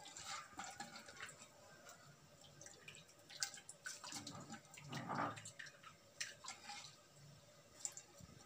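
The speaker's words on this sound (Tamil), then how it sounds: "அப்புறம் ஒரு ஸ்டைனர் வச்சு இதில் ஒரு வடிகட்டிக்கணும்." Coconut milk strained through a strainer: faint, close dripping and trickling of liquid in a quiet room, with a few small splashes and soft clinks.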